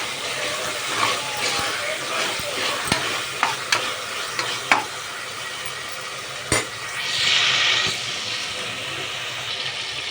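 Mutton frying with curry leaves, mint and coriander in a pot, a steady close sizzle punctuated by sharp clanks and scrapes of stirring, with a brief watery burst near the end.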